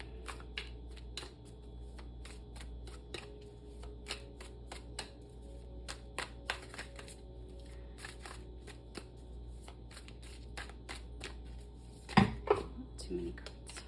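A deck of cards shuffled by hand in several bursts of riffling clicks and snaps, with a louder flurry near the end; close and fairly quiet, with a steady low hum underneath.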